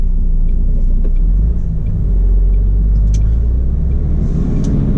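A road vehicle drives off and cruises along, a loud, steady low rumble of engine and tyres running for several seconds with small bumps, no voices.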